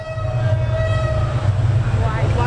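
Railway train rumbling past close by, a steady low-frequency roar lasting throughout with faint tonal squeals above, while people chat over it.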